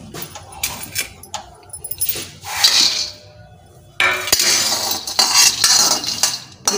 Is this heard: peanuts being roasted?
yes